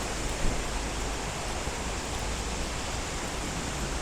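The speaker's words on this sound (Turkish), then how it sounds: "Yani tam eve geldim derken maalesef yağmura yakalandım. Ve acayip yağıyor." Heavy rain pours down steadily during a solo motorcycle tour in eastern Anatolia, a dense unbroken hiss that stays loud and even from start to finish with no voices.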